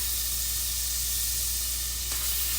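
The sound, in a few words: minced garlic sizzling in a pan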